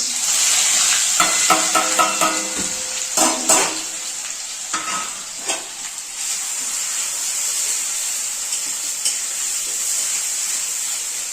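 Chopped onions hit hot oil in a pot for a Bengali-style mutton curry and fry with a loud, steady sizzle throughout, broken early on by clattering stirring and scraping knocks, with no voices.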